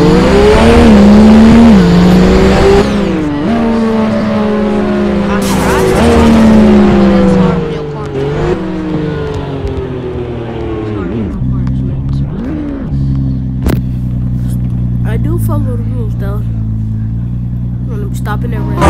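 Cars driving in the Roblox-style game Driving Empire, with steady engine drone shifting pitch as they accelerate and slow, loud and continuous under someone talking.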